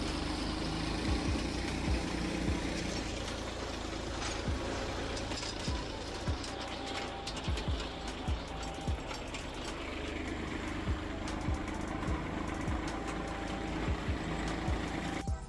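A tractor engine idles steadily on a grape farm, a continuous low rumble with faint knocking that holds at an even level for the whole stretch, with no voices over it.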